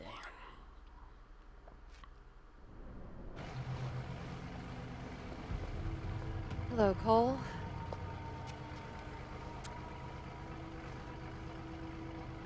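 A low, steady boat engine drone from the game Infamous 2 runs under the scene, joined by a rising whine and a brief warbling tone midway, while a character speaks a short greeting.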